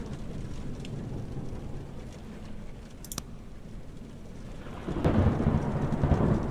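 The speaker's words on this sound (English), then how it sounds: "the lightning and the rain covers up some of the sounds" Steady rain hisses with a sharp crack and a rumble of thunder midway in the video game The Joy of Creation; the downpour grows louder and heavier near the end. No voices.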